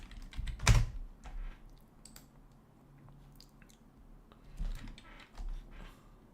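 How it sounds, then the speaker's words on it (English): Keys struck on a computer keyboard while entering Windows shortcut commands: one sharp, loud click near the start, then a few softer, scattered keystrokes over a quiet background. "Windows-L on the keyboard now."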